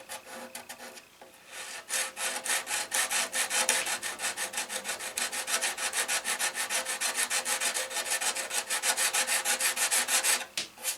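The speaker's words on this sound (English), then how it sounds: "Davlin taught me, and that is 120 grit on a little plexi or a Lexan pad" Close, rhythmic strokes of 120 grit sandpaper on a small plexi or Lexan pad scrape back and forth over the wood of a 1931 Martin C-1 guitar, steady and uninterrupted after a brief pause near the start.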